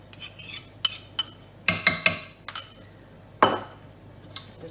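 Spoon clinking against a pot while stirring chicken curry with crème fraîche, a run of sharp close metallic taps and scrapes, some in quick clusters, with no talking.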